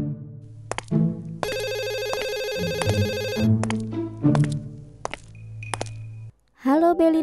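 A mobile phone rings nearby, playing a loud electronic ringtone melody of sustained tones and chiming notes for several seconds. The ringing cuts off and a voice begins speaking.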